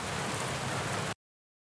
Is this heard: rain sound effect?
yes